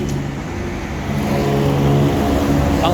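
A Suzuki Multicab pickup's 660cc three-cylinder, 12-valve gasoline engine runs with a steady low hum close by, rising slightly partway through as if lightly revved.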